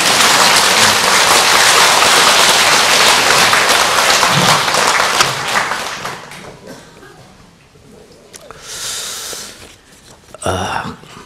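Audience at a Buddhist Avatamsaka dharma assembly bursts into dense, steady clapping that fills the first six seconds and then thins out, leaving quieter rustling and scattered claps.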